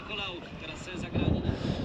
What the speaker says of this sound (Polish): Mocny wiatr się zrobił